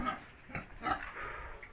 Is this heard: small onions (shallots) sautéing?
no